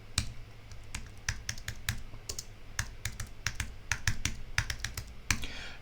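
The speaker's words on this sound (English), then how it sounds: "I'm going to take the T key and I'm going to type in" Rapid, uneven clicks from a computer keyboard as someone types, the sharp key taps close and distinct over a faint low hum, with a few quicker bursts of keystrokes.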